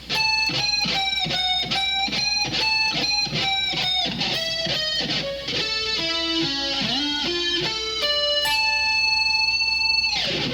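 An electric guitar plays a solo at a slowed practice pace: a steady run of distinct picked notes climbing and bending, sustained and fairly loud, ending on a held note, with no talking.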